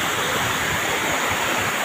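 Sulop waterfall in Davao del Sur, a deep plunge pool below, roars as a continuous dense wash of rushing water, close, loud and steady with no voices.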